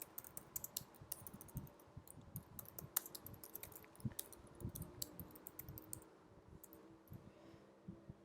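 Soft, quick keystrokes on a computer keyboard as C code is typed, an irregular clatter of light clicks at low volume with brief pauses.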